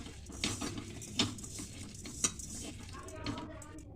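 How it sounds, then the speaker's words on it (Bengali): Grated coconut being stirred with sugar in a kadai, a spoon scraping and clinking against the metal in a few sharp taps over a steady low rustle, close by. "আমি কড়ার মধ্যে নারকেলটা নিয়েছি। আমি এবার চিনি দিয়ে দেবো। চিনি দিয়ে ভালো করে মেশাবো।"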